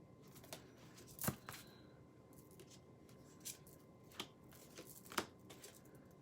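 Reading cards shuffled by hand, faint papery rustles broken by a few sharp snaps and flicks as cards pop loose, heard close in a quiet room.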